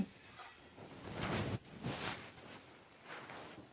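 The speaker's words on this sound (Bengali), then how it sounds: "মশলার সাথে কিন্তু সবজিগুলো আমরা খুব ভালো করে কষিয়ে নেব" Vegetables fried with tomato and spices in a pan for a broccoli, egg and potato curry, a soft sizzle with irregular bursts of stirring scrapes, close and fairly quiet.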